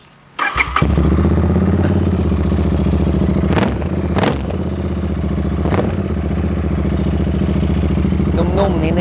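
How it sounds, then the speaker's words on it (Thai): Royal Enfield Interceptor 650 motorcycle with custom exhaust starts and settles into a loud, close, lumpy idle, with a few sharp throttle blips along the way. "เดี๋ยวเรามาฟังเสียงท่อกันสักนิดนึงนะครับ"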